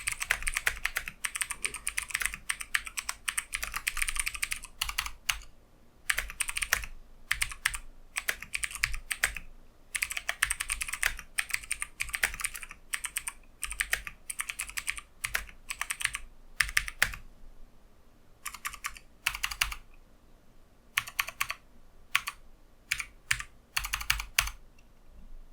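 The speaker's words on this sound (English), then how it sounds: "So there's the typing test." Steady typing on a Corsair K70 mechanical keyboard with Kailh switches: dense runs of crisp clicky keystrokes in bursts separated by short pauses, close and loud, with no talking.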